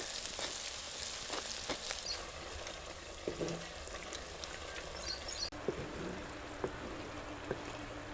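Soft, low sizzle of masala with onion frying in a pan for a corn curry, fairly quiet and steady with a few faint clinks and taps.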